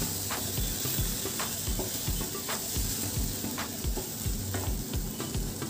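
Onion and tomato mixture sizzles in a pan while a spoon stirs it in repeated soft scraping strokes over a continuous hiss of frying.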